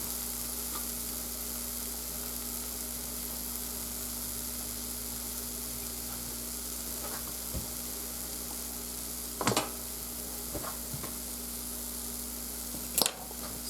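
Steak in a pan sizzles with the heat switched off, a steady soft hiss throughout, with a few brief clinks and scrapes of handling near the end and no talk.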